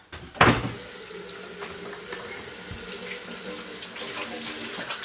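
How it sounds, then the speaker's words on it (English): Water runs steadily from a kitchen tap while hands are washed beneath it, opening with a sharp splash and continuing as a close, even rush. "Wash hands."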